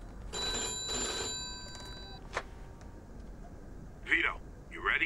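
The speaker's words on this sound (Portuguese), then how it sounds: "Atender o telefone" An old-fashioned telephone bell rings in the video game Mafia 2, two bursts of ringing close together, then a single chime, with a voice speaking briefly afterward.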